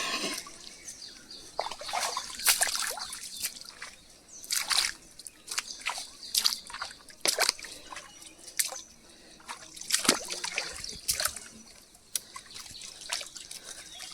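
Water trickles and drips into a field where crabs are being caught, with irregular close splashes and sloshing over a quiet outdoor background and no speech.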